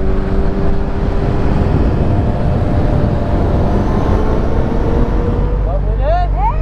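A 2020 BMW S1000RR sport motorcycle roars steadily and loud while being ridden, with constant wind and road noise and a brief voice near the end.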